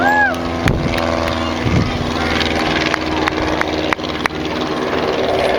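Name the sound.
propeller aircraft flying close overhead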